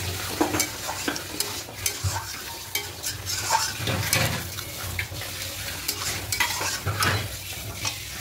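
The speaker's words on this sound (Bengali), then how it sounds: "এবার দইয়ের বাটিতে জল দিয়ে এই জলটা দিয়ে দেবো।" Water goes into potatoes and paneer frying in a pan, hissing and sizzling loudly while a spoon stirs and scrapes in irregular bursts, close up and without talk.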